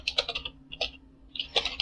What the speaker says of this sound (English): So let me just type here